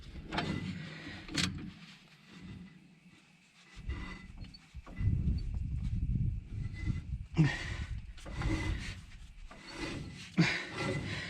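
A brake shoe rubs lightly against a turning car brake drum, giving faint, intermittent scraping swishes with quiet gaps between passes.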